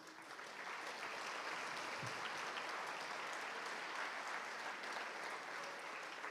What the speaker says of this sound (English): Let's give a round of applause to these students.